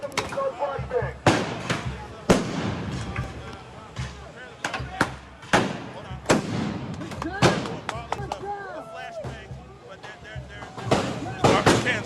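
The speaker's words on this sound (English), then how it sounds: "they're throwing these flashbangs" Flashbang grenades going off amid a street confrontation with flipped garbage cans, a string of sharp loud bangs spaced irregularly over several seconds, with shouting and excited talk from people nearby throughout.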